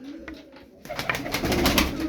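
Soft, low cooing from several Sarıkır game pigeons, fairly close, with a rustling flutter of movement joining in after a brief quieter start.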